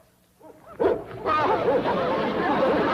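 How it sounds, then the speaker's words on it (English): Several dogs bark and yip close by in a classic western TV comedy scene, starting with short yelps that build into continuous excited barking and whining. "Oh, those dogs."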